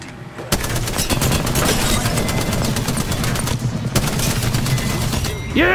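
Sustained automatic gunfire from a video game sounds as loud, rapid bursts that start abruptly and keep firing nearly nonstop, with a sharp whoosh right at the end.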